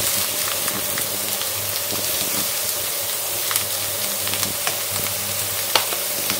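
Dried mushrooms fry in a mix of oil and butter with a continuous close sizzle, dotted with small pops and crackles throughout.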